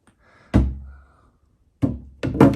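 A wooden drawer is pulled from a twin pedestal desk with a hollow thunk, then two more knocking bumps in quick succession as it slides free, close and alone.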